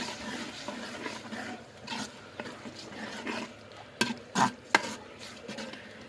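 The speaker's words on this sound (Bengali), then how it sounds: "তাইভাবে আমি পেঁয়াজ কুচিগুলো প্রথমে কষিয়ে নিচ্ছি" Chopped onion, ginger paste, garlic and bay leaves sautéing in a pan, with a low sizzle under soft stirring scrapes and a few sharper knocks of a spoon against the pan toward the end, with no voices.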